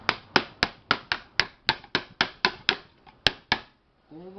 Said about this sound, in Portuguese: Pegar um soquete de ferro aqui, qualquer soquete assim, ó, e bater por dentro.